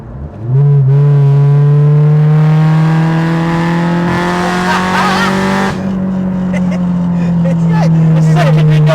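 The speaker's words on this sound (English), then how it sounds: "You can hear the VTEC kick over." Citroen AX fitted with a Honda Civic Type R VTEC engine accelerating, a loud close rising engine drone that climbs steadily through the revs and briefly dips before pulling again, with voices talking over it.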